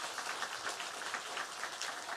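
A church congregation clapping in thanks during a Sunday worship service, a steady, soft wash of many hands heard from a distance with no voices over it.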